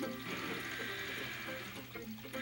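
Water splashing and pouring in Super Mario Galaxy 2, a steady rushing wash of game audio heard alone for the whole moment.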